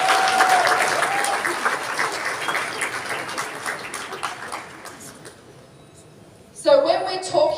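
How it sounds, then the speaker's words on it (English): Audience applause at a training session for a membership organisation, a loud dense crowd clapping steadily for most of the clip, then fading out before a voice starts speaking near the end. "And I think that deserves a round of applause."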